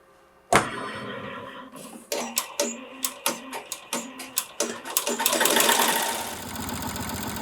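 A Melco embroidery machine stitches 3D puff foam, starting with a sharp click and then a rapid, regular mechanical clatter that speeds into a dense whirring run, loud and close.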